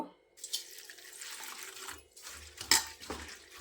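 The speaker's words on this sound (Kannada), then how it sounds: "ಈ ಅವಲಕ್ಕಿಯನ್ನು ತೊಳಿಬೇಕು" Flattened rice (avalakki) being washed in water inside a kitchen vessel: quiet sloshing and swishing of water with a few soft clinks of the pot, close and alone.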